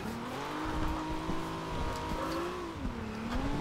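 Nissan 300ZX engine drone in Forza Horizon 2, a steady tonal whine rising and dipping as the car drives, with faint tire noise, moderately quiet and with no talking.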